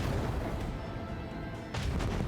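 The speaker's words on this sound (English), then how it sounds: "Unleash the storm of macro cannons." Macro cannon fire from a starship in Warhammer 40,000: Rogue Trader, a dense rumbling barrage of heavy booms that dips briefly and then swells again, loud and continuous with no voices.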